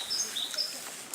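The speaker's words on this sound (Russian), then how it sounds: "А как птички поют." Small birds chirp and sing in a garden at a country dacha. Several brief, high tweets come in quick succession at moderate distance over a soft outdoor background hiss.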